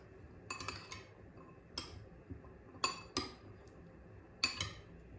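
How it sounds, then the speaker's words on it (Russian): A utensil stirs in a pot of hot food to melt butter, giving several light metallic clinks and scrapes in short clusters against a quiet kitchen background. "И перемешаю, чтобы растопилось сливочное масло."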